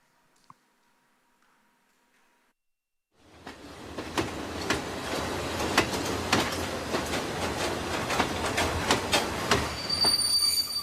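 A train at the Łambinowice railway station in Poland, shown in a short film. It rolls in after a few seconds of near silence, with loud rumbling, wheel squeal and rhythmic clacks building steadily, and no talk.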